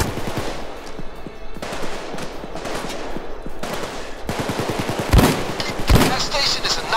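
Automatic gunfire in the video game PayDay 2, with rapid rattling bursts fired in quick succession and two louder sharp shots near the end, close and loud under faint background talk.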